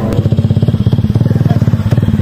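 A motorcycle engine idles close by with a fast, even putter of pulsing beats, loud and steady throughout.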